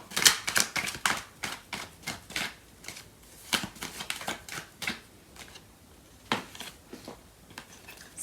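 Tarot cards are shuffled by hand in quick, irregular bursts of crisp riffling and slapping, close and fairly quiet, with brief pauses between bursts and no talk.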